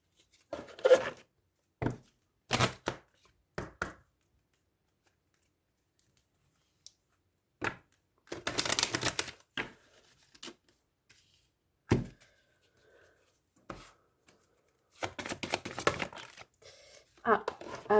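Oracle cards are shuffled and handled in scattered bursts of dry riffling, flicking and tapping with quiet gaps between them, close and soft, while someone speaks at moments.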